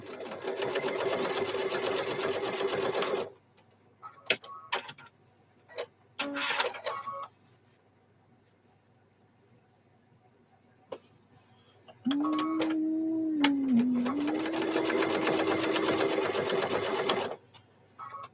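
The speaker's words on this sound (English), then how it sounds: "Just keep a stitching." A sewing machine stitches a microwave bowl koozie in two long runs at the start and end, with short bursts and pauses in between, loud and close with no talking.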